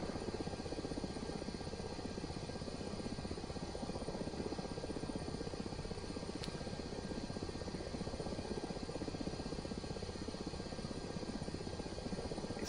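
A helicopter in a flight simulator game doing a rolling takeoff, its rotor and engine a steady, loud, dense drone that holds evenly the whole way with no talk.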